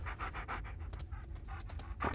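A dog in a video game pants rapidly and rhythmically, a short run of quick close breaths with a slightly louder huff at the end.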